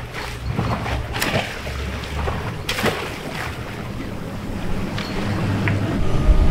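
Motorboat with two 300-horsepower engines running fast at sea, giving a low, steady engine rumble under rushing water, wave splashes and buffeting wind noise that swells toward the end.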